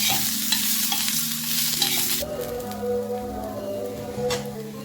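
Onion frying in a little oil in a pan, a close, hissing sizzle that fades partway through, with scraping stirs and soft clatter underneath.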